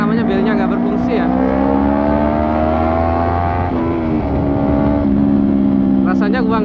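A modified Yamaha R15 with a very loud aftermarket exhaust drones close by, a strong, buzzy engine tone whose pitch shifts as the throttle changes, with a voice partly over it.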